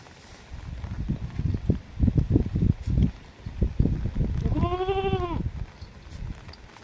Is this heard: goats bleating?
yes